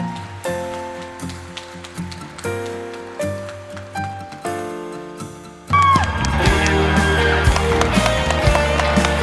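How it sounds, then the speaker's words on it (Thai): An audience at a Chonburi Isuzu sales competition breaks into loud, sustained clapping that follows quieter stretches of music with a steady beat. "ขอเสียงปรบมือให้กับคุณอานวยอีกครั้งนะครับทุกท่านครับ"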